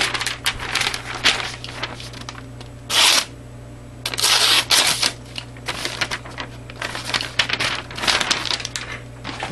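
A Leatherman Surge knife blade slicing through a sheet of regular loose leaf paper, giving close, dry scraping and crisp tearing strokes in short bursts, with a steady low hum underneath and no talking.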